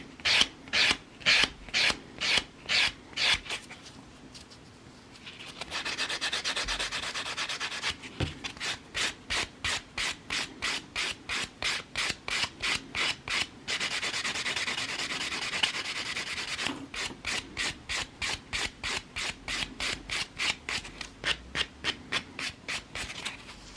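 Rhythmic rasping of a white block buffer rubbing over fingernails to smooth scratches, close and crisp, in quick regular strokes broken by two stretches of steadier continuous rubbing.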